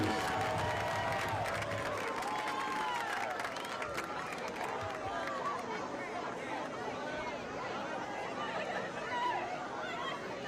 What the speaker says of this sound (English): let's give a big round of applause to your Frankfurt Bengals cheerleaders